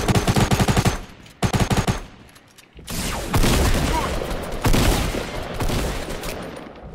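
Rapid automatic gunfire bursts in the Fortnite video game, two quick volleys at the start, then busier mixed in-game action noise and movement with no clear shots afterward.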